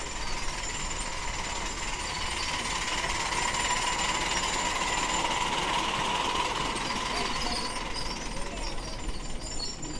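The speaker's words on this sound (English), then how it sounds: "I'll just catch the loco going past" Model steam locomotive on 5 1/4 inch track passing at a model and transport festival, a steady rapid mechanical chuffing and rattling that holds at an even loud level throughout, with faint outdoor background.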